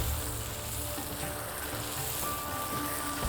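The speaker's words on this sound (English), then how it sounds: "We're basically frying all the mince with all the delicious things we have over here." Minced meat sizzles and fries in a wok with greens for kulfa keema, a constant close crackling hiss with faint stirring scrapes and no voices.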